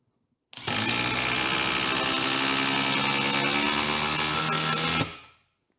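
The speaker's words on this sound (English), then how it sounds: "Next up, we have the DCF 845 20 volt 1/4 inch impact driver" DeWalt DCF845 20-volt quarter-inch impact driver driving a fastener, a loud, dense buzzing hammer that starts abruptly, runs steadily for about four and a half seconds, then cuts off with a brief winding-down tail.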